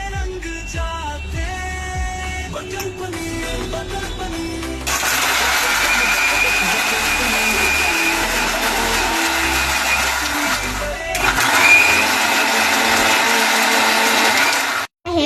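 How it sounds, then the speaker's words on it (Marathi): A mixer grinder grinds fried masala for butter paneer masala, a loud broadband whir starting partway in and running steadily with a short pause near the end, over quieter background music. "आता आपण फ्राय झालेला मसाला मिक्सर मध्ये ग्राइंड करूया"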